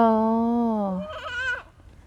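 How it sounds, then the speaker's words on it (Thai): A sheep on a farm lets out one loud, close bleat, a long wavering cry that breaks into a shaky tremolo before fading. "ยาดาจะอยู่กับแกะแล้วนะคะ"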